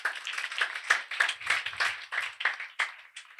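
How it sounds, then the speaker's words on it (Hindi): A church congregation at Christ Holiness Church, Defence View, clapping on New Year's Eve: a crisp run of separate claps with a loose, uneven rhythm, fairly close, with no voices over it. "Christ holiness church defence view की ये कलीसिया ज़ोरदार तालियां बजाकर आपको वेलकम कहती है।"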